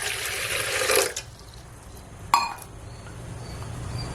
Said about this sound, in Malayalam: അതിലേക്ക് ഒരു ഗ്ലാസ് വെള്ളം ഒഴിക്കുന്നു.